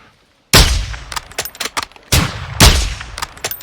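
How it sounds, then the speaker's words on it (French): Loud, sharp gunshots from the Call of Duty Modern Warfare 2 campaign ring out close: two heavy blasts, each followed by several quicker cracks and echoing reports, with no talk. "il a entendu le coup de feu"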